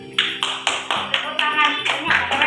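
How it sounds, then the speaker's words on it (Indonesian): Claps from a school class ring out in quick bursts, each burst sharp and close, running under continuous speech from a teacher. "Tepuk tangan, keren."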